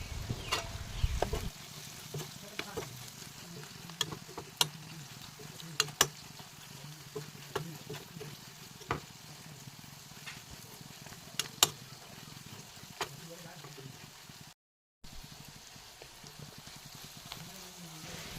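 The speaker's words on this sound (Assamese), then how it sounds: "তেলখিনি ভালকৈ সোমোৱালৈকে ভাজি ল'ম।" Elephant apple (ou tenga) pickle frying in oil in a pan over a gas flame: a soft, steady sizzle with scattered sharp pops and crackles, fairly faint and continuous, briefly cutting out near the end.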